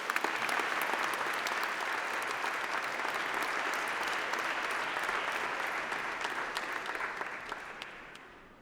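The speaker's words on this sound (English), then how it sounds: "be sure to clap and cheer and make this a day to remember for everybody who's here" A graduation ceremony audience claps in a dense, sustained wave of applause that holds steady, then slowly thins toward the end.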